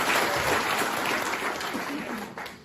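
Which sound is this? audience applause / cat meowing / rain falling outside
audience applause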